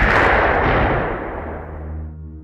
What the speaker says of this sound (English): an explosion in that video very closely matches one of the explosions in the saboteur video